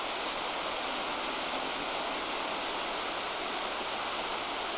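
Steady broadband rush of a swollen stream pouring hard through its channel, running continuously and fairly close throughout, with no voices over it.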